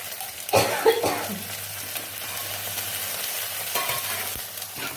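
Tomatoes are stirred into a simmering small rohu (chara pona) fish curry in a frying pan, with a spatula scraping and clattering against the pan in short bursts over a steady low sizzle.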